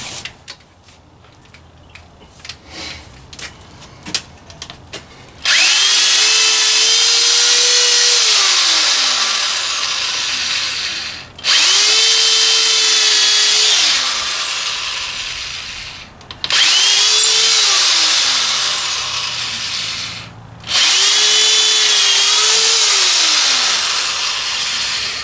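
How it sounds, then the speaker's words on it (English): A power drill bores a smaller pilot hole into wood in four long, loud bursts, the motor whining steadily and rising and falling as each pass starts and stops, with brief pauses between. "I'm probably going to have to drill a little bit smaller hole first."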